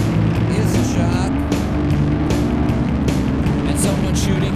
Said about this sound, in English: The traffic on Canal Street so noisy is a shock.